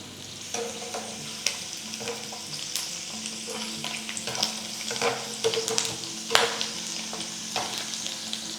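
Garlic frying in coconut oil makes a continuous close sizzle, broken by scattered spoon scrapes and sharp crackles from stirring.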